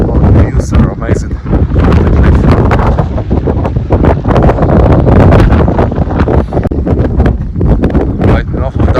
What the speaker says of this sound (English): Man, so windy.